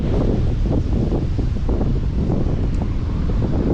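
Strong gusty wind near a mountain buffets the microphone, a loud continuous rumble with pulsing bursts.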